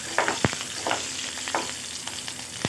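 Green chillies frying with garlic in a hot pan, a steady close sizzle broken by a few sharp stirring scrapes and knocks, with no voices.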